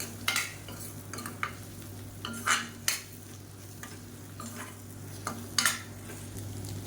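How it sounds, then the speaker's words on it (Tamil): Three eggs scrambled with vegetables in a frying pan for a lunch box dish: a spatula scrapes and stirs in irregular strokes over a steady low sizzle, with occasional clinks against the pan. "இப்போ இந்த முட்டையை வந்து நல்லா ஸ்க்ரம்பிள் பண்ணிக்கலாம்"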